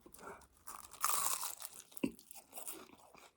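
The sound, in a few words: eating a crispy-shell pulled pork bing sandwich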